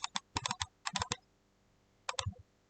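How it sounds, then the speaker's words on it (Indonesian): Crisp computer keyboard typing in several quick bursts of clicks, ending with a final short cluster as the enter key is pressed; close and clear in a quiet room with no talk. "Ketik enter di keyboard."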